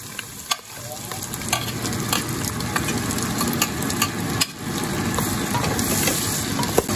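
Onion and garlic sizzle loudly in a hot pan while pancit canton is cooked, a constant frying hiss broken by the scrape of a spatula as the mix is stirred.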